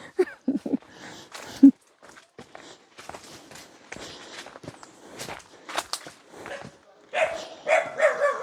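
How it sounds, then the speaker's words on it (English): A dog barks in short bursts at the start, heard along an outdoor walk with steady footsteps and rustling continuing throughout, with no voices nearby. "I hope that dog is chained."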